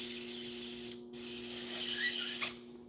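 A hobby airbrush set to about 40 psi for painting model tanks hisses in steady bursts, cutting off briefly and then resuming louder, with a constant low electrical hum from the compressor underneath.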